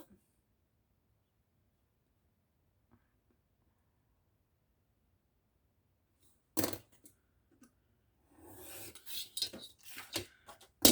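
Scissors cut an 8 mm paper strip for an envelope embellishment, a sharp snip after a long silence followed by a short run of close, crisp cutting and rustling paper sounds.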